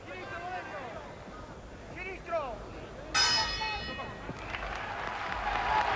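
A boxing bell rings to end a round at a WBC super bantamweight bout between Daniel Zaragoza and Valerio Nati, a single clanging strike ringing out over a noisy arena crowd.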